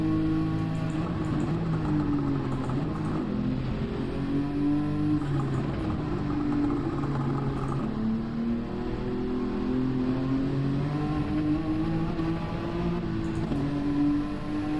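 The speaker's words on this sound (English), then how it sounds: "Overrev the engine." A race car engine in Gran Turismo 7 holds a loud, steady high-rpm drone throughout, its pitch wavering up and down as it strains past the limit, with no talk over it.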